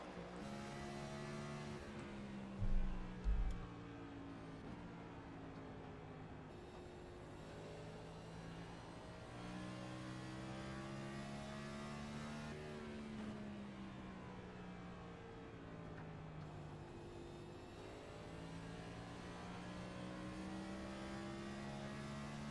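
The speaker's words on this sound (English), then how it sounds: "Let's take a ride on board with Kenny Reel, see what he is doing around this Richmond Raceway." Race car engine in the iRacing video game at Richmond Raceway, a Next Gen series car droning steadily with rising and falling pitch through shifts and corners, loud and continuous, with a couple of brief low thumps early on.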